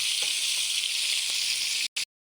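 Chicken pieces frying in hot oil in a kadai give a dense, steady sizzle and crackle, close and fairly soft, cutting out abruptly near the end.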